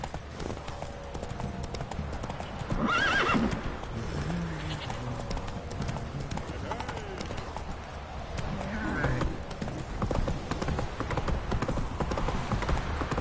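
Horse hooves clip-clop in a steady rhythm close by, with a brief whinny and a rider's urging voice over outdoor background noise.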